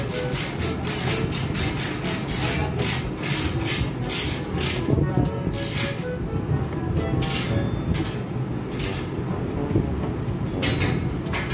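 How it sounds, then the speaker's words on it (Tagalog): A ratchet wrench tightens a scaffolding brace on a building site, making a rapid, continuous run of clicking ratchet strokes over busy background noise. "Yan yung ratchet wrench na ginagamit nila."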